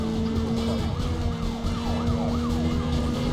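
A police car siren from the Need for Speed Carbon video game wails in repeated rising and falling sweeps, loud and continuous over a steady engine drone, with no talk.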